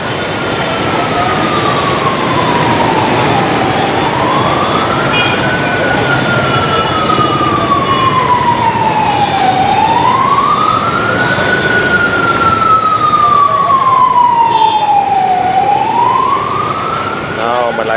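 An ambulance siren wails on a busy Saigon street at night, loud and near, its long rising and falling tone sweeping slowly several times over constant traffic noise.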